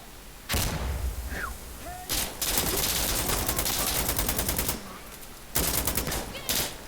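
Bursts of automatic gunfire and scattered shots in the video game Insurgency Sandstorm, loud rattling volleys in several waves separated by quieter gaps, with no talk over them.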